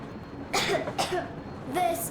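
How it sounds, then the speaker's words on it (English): A girl in the video game Metro Exodus coughs three times in short, separate bursts, fairly close and moderately loud, with quiet background between them. "I have this cough."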